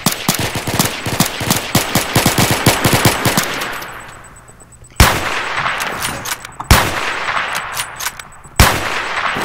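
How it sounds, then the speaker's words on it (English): Video game gunfire in a shooter: a fast automatic burst of rapid, loud shots for several seconds, then a pause and three sharp single heavy shots spaced apart, each with a ringing tail. "So much shooting at us."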